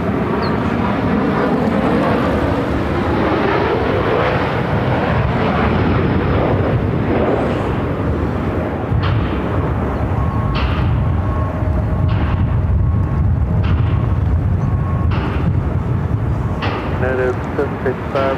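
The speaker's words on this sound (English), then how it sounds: "Southwest Airlines 3328 coming from Oakland on a MAX 8." A Southwest Airlines Boeing 737 MAX 8 arriving from Oakland gives a loud, sustained rushing jet roar that swells and fades with some sweeping tonal whine, with radio chatter underneath.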